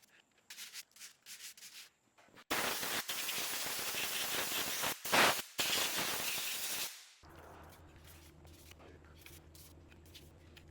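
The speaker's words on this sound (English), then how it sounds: "you want to abrade all the surfaces with sandpaper" Sandpaper abrading knife scale pieces, a loud steady rubbing scrape lasting several seconds between quieter handling noises.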